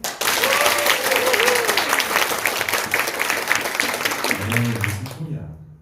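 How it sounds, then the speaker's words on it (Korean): Applause from a church audience at a testimony event, dense steady clapping that fills the room for several seconds before cutting off, followed by a low voice. "작은 박수를 살짝 들렸던 것 같은데요"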